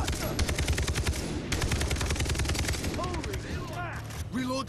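Rapid automatic gunfire from a Far Cry 3 co-op match rattles in dense bursts with a brief pause, then a few whooshing effects, while players talk over it.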